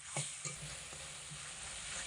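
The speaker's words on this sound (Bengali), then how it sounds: "এই সমস্ত মশলাপাতি দিয়ে একসঙ্গে এটাকে খুব ভালো করে কষিয়ে নেব।" Spiced tomato masala is stirred and fried in a pan, a quiet, soft sizzle with occasional scrapes of the spoon and no voices.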